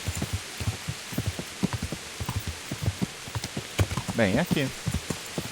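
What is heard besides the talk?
horse hooves from the video game Kingdom Come Deliverance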